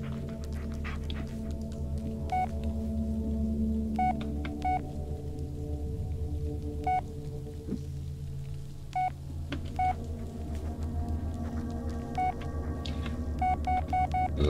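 Short electronic notification beeps from a phone in the horror game Blair Witch chime again and again at irregular intervals over a steady low hum and a breathy, panting background.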